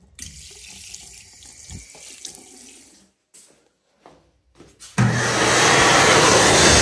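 A 2010 Excel Xlerator hand dryer in a Marshalls restroom in Cheektowaga, NY, follows a stretch of running water and sink noise and a brief quiet. It then kicks on abruptly with a loud, steady, close-up rushing roar.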